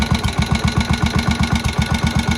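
An old Moto Guzzi single-cylinder motorcycle engine, a long-neglected shed find, runs with its big flywheel spinning, giving a loud, steady, close-up chuff-chuff beat at a fast even rhythm.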